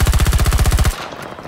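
Rapid machine gun fire in the video game Battlefield 2042, a steady burst of evenly spaced loud shots for about a second that stops abruptly, leaving faint background noise.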